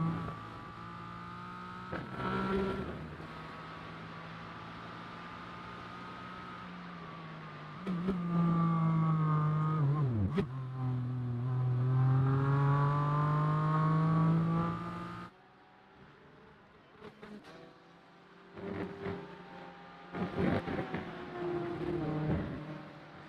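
Race car engines in a sim racing game at Mugello, with a Porsche and a BMW, whine through upshifts and rising revs. A loud, sustained drone swells and drops with gear changes, then turns more uneven near the end.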